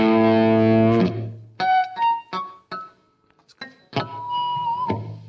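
Electric guitar run through a Boss GT-8 multi-effects unit with a short pre-delay reverb adding body behind the notes; a sustained chord rings out, then several short, punchy stabs and single notes, close and clear with no talking.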